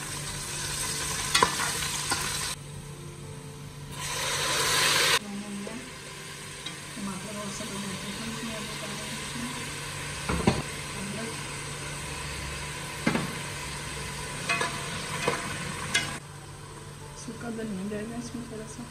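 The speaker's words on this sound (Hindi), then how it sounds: "सबसे पहले जिस तरह हम पुलाव बनाते हैं इसी तरह हमने प्याज ब्राउन करने हैं इसके।" Onions browning in oil for a South Indian vegetable biryani, a continuous sizzle with occasional stirring scrapes and knocks, while a voice talks over it at times.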